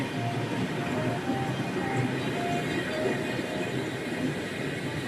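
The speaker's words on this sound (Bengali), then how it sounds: "এটা মালগাড়ি ভেবেছিলাম প্যাসেঞ্জার ট্রেন হবে এটা মালগাড়ি" A freight train passes close by beneath a bridge carrying water, with a loud, unbroken rumble of wheels on rails. Faint squeals and rattles run through it for the whole stretch.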